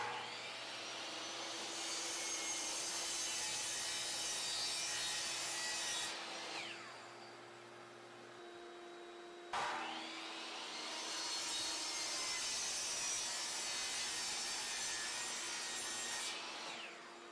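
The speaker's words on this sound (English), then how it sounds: "let's do a quick test cut and see how that works out" Miter saw making two test cuts with dust collection running, each a loud, steady whining cut through wood lasting several seconds, separated by a brief lull where a quieter hum continues.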